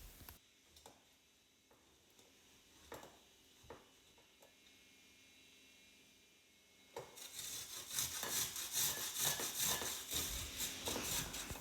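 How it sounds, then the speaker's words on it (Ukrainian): Scattered scraping taps at first, then a dense, continuous rasping of hard cheese and garlic rubbed quickly across a fine grater, close and fairly loud. "Так само на мілку тертку натираємо твердий сир та часник."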